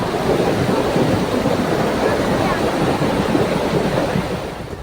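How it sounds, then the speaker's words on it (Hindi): Floodwater in small streams overflowing after heavy rain in Uttarkashi roars in a loud, steady turbulent rush, dense and close throughout with slight surges. "तेज बारिश से कई छोटे छोटे नाले उफान पर आ गए"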